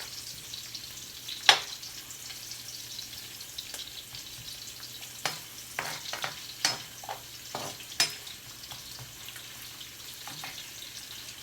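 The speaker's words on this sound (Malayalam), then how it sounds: "അതിലേക്ക് സവാള ഇട്ട് ഒന്ന് വഴറ്റി കുറച്ച് ബ്രൗൺ ആയതിനു ശേഷം ബാക്കി ചെരുവെള്ളത്തിൽ ചേർക്കാം" Sliced onion sautés in hot oil, a soft, quiet sizzle running beneath intermittent spoon stirs and scrapes that come in small clusters, close but low in level, with no talking.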